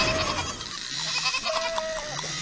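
Goats bleat in a pasture, with a couple of wavering calls rising over a bright, noisy outdoor background.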